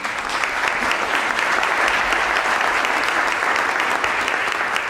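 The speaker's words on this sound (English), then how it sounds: "A round of applause for our panelists today" Full audience applause for panelists at a youth employment partnership event, a thick, continuous wash of clapping from many hands that holds steady for several seconds.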